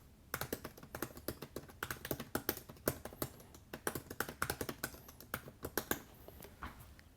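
Keys clatter in quick, uneven bursts as someone types on the flat, low-profile keyboard of a 2018 MacBook Pro, with crisp close taps and no talking.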